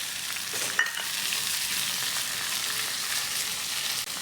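Garlic frying in a pan, a steady close sizzle that runs the whole time with a brief stirring clink near the start, and no one talking.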